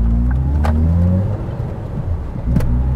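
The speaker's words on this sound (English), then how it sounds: "Got pretty good induction noise off this thing. Listen to this." A Ford C-Max engine's induction noise while driving, a loud, steady low drone that swells and eases slightly throughout, with no talking.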